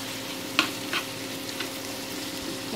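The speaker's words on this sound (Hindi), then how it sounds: "थोड़ा बस गोल्डन होने तक ही इसे फ्राई करना है।" Onions frying in about a cup of hot oil in a pan, cooked until light golden for karela chutney; a quiet steady sizzle with a few brief stirring clinks, no talking.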